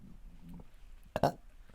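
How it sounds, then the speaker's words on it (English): One loud, abrupt human burp erupts near the middle after quiet murmuring, short and close to the microphone. "I clear energy through burping, so when I feel it come, I let it out."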